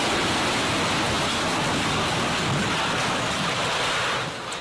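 Strong wind and heavy rain during a deadly storm in São Paulo, a dense, steady roar of rushing noise that holds loud and unbroken throughout before easing slightly at the very end, with no voices.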